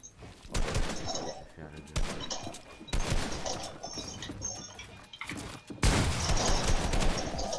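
Video game gunfire plays in repeated bursts of shots mixed with other busy game sounds, loud and dense at moments, with some quieter stretches between the volleys.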